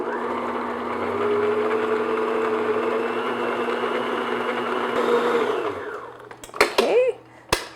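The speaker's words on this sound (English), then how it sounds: "what I'm going to do is beat this medium speed just until it gets all mixed together" Electric hand mixer beating sugar at medium speed for low-fat brownies, a steady close whirring drone for about six seconds that winds down, followed by a few clinks of the beaters against the bowl.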